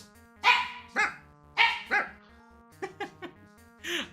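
A person imitates a dog, giving several short, loud bark-like yips and whimpering sounds in uneven bursts, with brief pauses between them.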